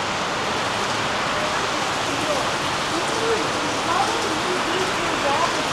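Rain pours down in Kuching, Sarawak, a loud, dense, steady hiss with faint voices murmuring underneath.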